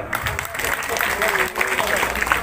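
A crowd at a village gathering with a regent claps in a continuous patter, while people talk over it.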